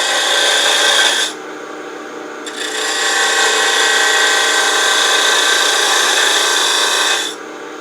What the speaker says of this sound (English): So I'll use a spindle gouge for that. So I'll cut away from the chuck.